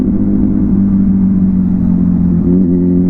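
A motorcycle with a broken exhaust revs hard and close, a loud, raw, continuous engine rumble with a buzzing drone that holds steady throughout.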